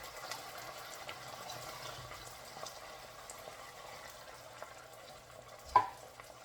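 Sardines sautéed with bottle gourd are stirred in a pan, giving soft scraping and gentle sizzling at low level, with a sharp clink near the end.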